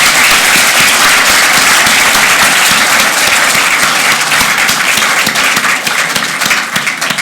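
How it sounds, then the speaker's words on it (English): Loud, dense audience applause at an awards ceremony, a sustained wash of many hands clapping close by that thins slightly toward the end. "And I'd like to give everybody just a round of applause for attending."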